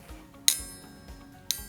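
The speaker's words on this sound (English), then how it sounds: "So when we tap the coat hanger," Metal coat hanger tapped twice, each strike a bright, ringing clink that decays quickly, about a second apart over a quiet room background.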